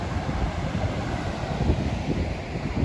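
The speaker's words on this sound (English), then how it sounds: "it's a bit onshore, a bit windy today" Steady onshore wind on a coastal path buffeting the microphone, a broad low rumble with gusty swells and a faint wash of surf behind it, no voices.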